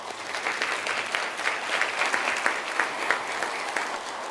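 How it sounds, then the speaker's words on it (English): Steady, dense applause from a seated crowd at a Native community welcome dinner, honoring students, continuous clapping that holds evenly throughout. "So a round of applause for our students as well."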